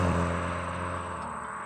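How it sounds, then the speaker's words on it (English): A 2025 Volkswagen Jetta GLI's sport exhaust drones low and steady at a distance while accelerating, fairly quiet, with no voices. "You can hear that sport exhaust in the background."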